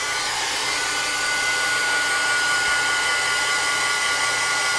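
A hair dryer blows steadily at close range, drying ink on a drawing with a constant, even whooshing hum and no speech.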